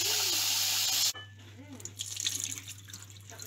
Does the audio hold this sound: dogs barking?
no